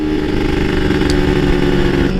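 A Kawasaki Ninja two-stroke motorcycle revs during a downshift while climbing a hill, giving a loud, close, continuous engine drone that rises and falls slightly, with no voices.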